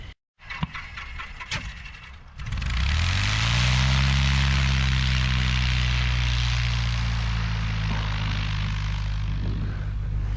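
An EV97 Eurostar light aircraft at an air show: clicks and a brief cranking before the propeller engine fires up, then a loud, close, steady droning idle that holds for several seconds.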